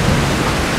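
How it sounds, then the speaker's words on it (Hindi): Heavy rain pours down outdoors in a dense, even, hissing wash of noise that stays loud and steady for a brief moment. "गजब की बारिश हो रही है इस टाइम पे"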